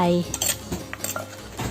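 Luang Prabang-style papaya salad with sliced papaya being tossed and mixed in a bowl, giving a string of close, bright clinks and scrapes of utensils against the dish, irregular and fairly loud.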